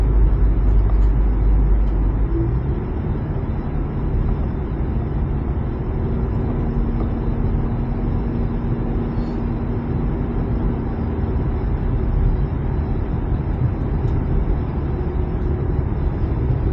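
A car drives along a road in Barbados, its steady engine and tyre rumble filling the cabin as a constant low drone with no talk.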